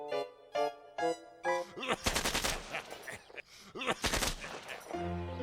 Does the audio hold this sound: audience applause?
no